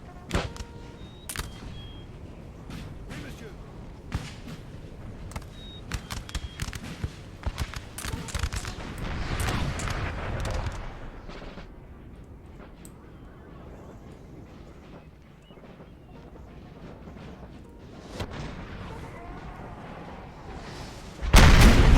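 Artillery fire in Napoleon Total War at the 1807 Battle of Friedland: repeated sharp cannon reports, some near and loud, others distant, over rolling battlefield rumble, thinning out midway before a heavy close boom at the end.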